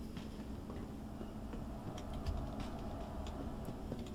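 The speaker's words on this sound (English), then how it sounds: "Oh, look at that! The train's just turning up." A tram arrives at a transit platform on the line to Area 18 in the video game Star Citizen, a faint, steady rumble with light ticking clicks, heard alone at low volume.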